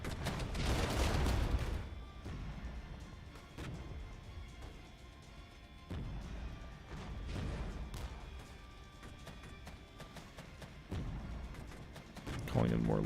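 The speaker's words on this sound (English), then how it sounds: "Bring in the mortars." Mortar fire in the strategy game Regiments: Winds of Change, several sharp distant blasts spaced a few seconds apart over a steady battlefield rumble, with voices speaking through it.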